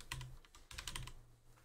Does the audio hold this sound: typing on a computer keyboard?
yes